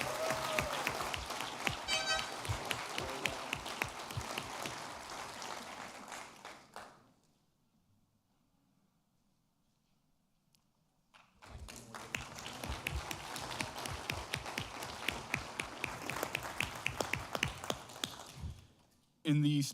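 An audience at an airmen's awards ceremony claps in a loud, dense round of applause, breaks into near silence for several seconds, then a second long round of clapping follows.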